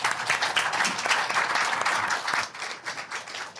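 Audience applause closing a day of a legal training conference, a dense, sustained wash of many hands clapping that thins slightly toward the end, with no voices over it.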